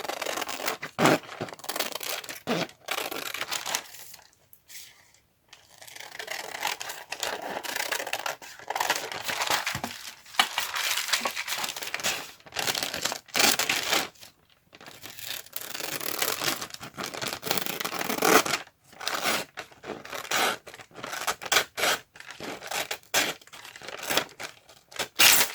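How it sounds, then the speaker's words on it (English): Tracing paper being cut and torn by hand, a continuous dry crinkling and ripping with irregular bursts and brief pauses, close and fairly loud, with no talk. "a torn piece, because I'm cutting and then I'm pulling to the right a little"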